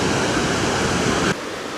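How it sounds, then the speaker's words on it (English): A waterfall along Endicott Arm near Juneau, Alaska, gives off a loud, steady rushing roar for just over a second before it cuts off sharply to a much quieter hiss. "we are about sick of this waterfall"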